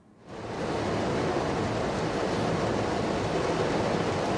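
Heavy monsoon downpour on a waterlogged Jaipur street, a dense, steady roar of rain that swells in within the first half second and then holds loud and unbroken, with no voices.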